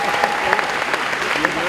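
A packed assembly at a political meeting at the Bourse du Travail breaks into applause. The clapping is sustained and fairly close, with faint voices mixed into it.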